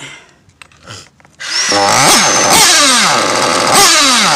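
A small engine at low idle, then a loud run of rapid revs that rise and fall several times. It sounds close and harsh, like a chainsaw or small motorbike, with no talk.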